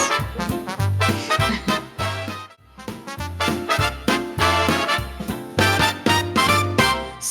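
Upbeat jingle music for a podcast segment plays loud and punchy, with rhythmic bass hits and bright chordal layers, briefly dropping out near the middle before resuming.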